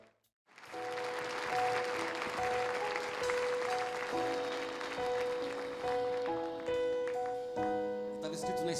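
A church congregation applauds at a recorded special service, with sustained, dense clapping throughout. Organ or keyboard chords and cheering voices rise over the applause.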